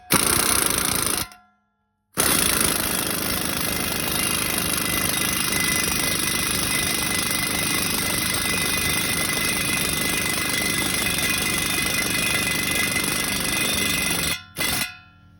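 An Astro Tools hub bearing tool presses a wheel hub, producing a loud, continuous mechanical hammering drone with a tonal whine that runs about twelve seconds, broken by short silent gaps near the start and end.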